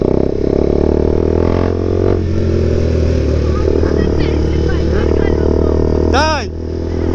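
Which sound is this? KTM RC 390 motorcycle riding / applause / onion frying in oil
KTM RC 390 motorcycle riding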